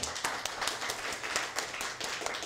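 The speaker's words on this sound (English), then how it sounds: "let's give you a big round of applause for making it through" Clapping from a small audience at a Hot Ones–style library event, a fairly light, uneven patter of hands that runs steadily through the moment without pause.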